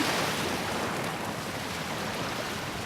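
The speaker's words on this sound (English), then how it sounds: "you also become aware of the sounds of the waves." Sea waves surging onto a sandy shore, a steady broad wash of surf with wind noise, close and continuous without breaks for the whole stretch.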